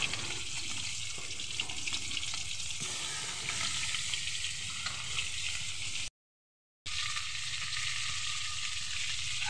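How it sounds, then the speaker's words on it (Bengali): Fish frying in a pan, a loud continuous hiss and sizzle heard up close, steady throughout apart from a short break of silence. "মাছটা আমার ভাজা হয়ে গেছে, এবার আমি নামিয়ে নেব।"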